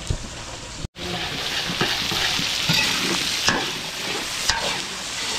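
Onions fry in a pan with a dense, continuous sizzle and occasional utensil clicks and scrapes. A brief dropout comes early on, and the sizzle then carries on steadily without voices.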